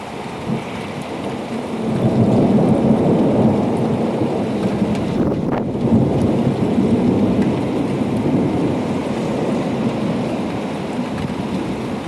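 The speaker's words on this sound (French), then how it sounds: "Mais ça n'arrête pas de tonner." Thunder rolls on continuously through a violent summer thunderstorm in Sallanches, a deep sustained rumble blended with steady heavy rain, loud and close with no voices.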